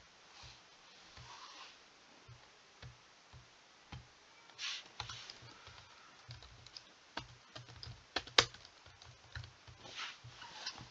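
Keys clatter on a computer keyboard as reading-test answers are typed in, quiet irregular taps that start sparse and then quicken into a busier run of close clicks.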